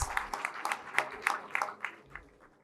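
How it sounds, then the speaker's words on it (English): Audience at a college farewell applauding the outgoing graduating batch, a scattered round of clapping with distinct individual claps, fairly faint and thinning out toward the end. "give a huge round of applause for outgoing batch"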